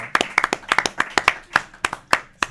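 A small audience clapping for a live talk show, with sharp, uneven hand claps in a quick irregular rhythm, close and fairly loud, fading out near the end.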